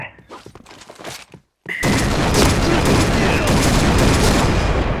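Rapid automatic gunfire from a Point Blank first-person shooter match bursts in loud and dense after a brief silence, sustained as a heavy continuous fusillade, with a player's voice speaking over the earlier part.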